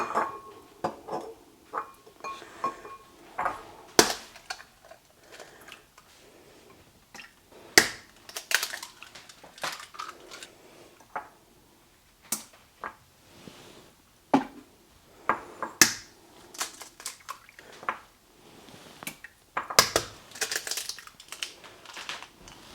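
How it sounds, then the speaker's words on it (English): Eggs cracked one after another into a stand mixer bowl, crisp shell snaps and taps scattered among quieter handling sounds, close and alone without talk. "I'm going to crack our eggs into the mixer."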